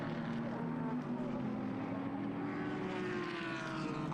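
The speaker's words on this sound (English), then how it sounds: "You can hear the Nissan rumbling through camera shot" A Nissan race car rumbles through a long turn during Japan Cup qualifying at Fuji, its engine a steady, moderately distant drone with a slowly rising pitch that holds throughout, without any talk over it.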